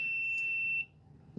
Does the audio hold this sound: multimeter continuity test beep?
yes